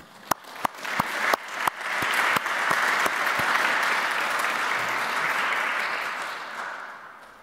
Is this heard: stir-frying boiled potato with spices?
no